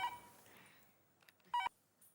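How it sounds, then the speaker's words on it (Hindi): A phone rings or sounds electronic tones in a sitcom household scene, two short tonal bursts separated by a pause, clear and close with nobody speaking. "एक मिनट, फोन है।"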